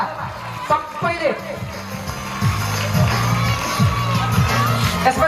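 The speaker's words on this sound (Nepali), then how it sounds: "विद्यार्थी नानीहरू सबैले ऊर्जाशील ताली बजाउनु होला सबैले" School students at an opening ceremony shout and cheer as an energetic crowd, the noise rising and swelling over several seconds with voices mixed in.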